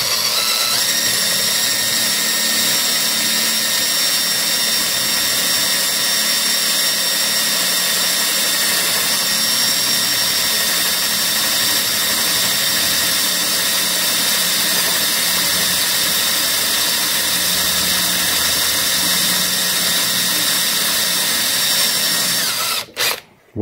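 Power drill boring a hole into a steel Suzuki DR200 motorcycle frame, a loud, steady, high-pitched whine with grinding overtones running continuously for over twenty seconds before cutting off abruptly at the end.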